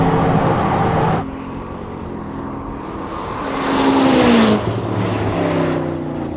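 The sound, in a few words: Ferrari or Koenigsegg sports car accelerating during speed run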